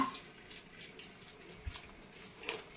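Water from soaked wheat is strained into a steel container, giving a faint, quiet trickle with a few scattered drips and light splashes close by.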